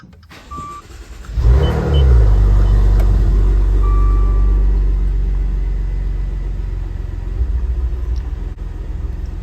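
An ECU-tuned Maserati Ghibli in sport mode fires up with a sharp rising roar, then settles into a loud, deep idle rumble that eases slowly, close by and with no talk.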